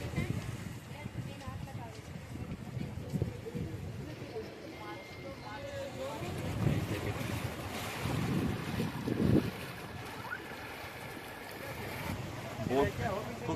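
A slow-moving boat on Lake Pichola in Udaipur chugs along under steady wind noise and lapping water, with people talking faintly over the low rumble.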